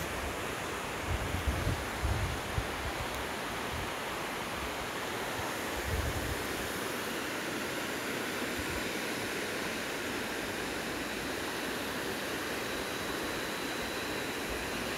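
A broad, steady roar of rushing water arriving at a site with a cemented channel or box, continuous and loud with a few low thumps early on, and no voices heard.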